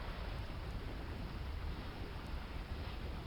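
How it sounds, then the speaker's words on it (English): Indoor rain in the Second Life virtual world, a continuous broadband hiss of heavy rainfall, constant and close with no voices. "We got rain going on here too inside."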